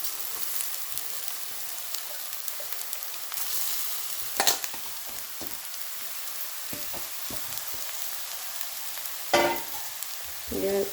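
Grated beetroot sizzles steadily in a hot pan for a beetroot palya, with a few louder scrapes and taps from stirring near the middle and end, and no voices.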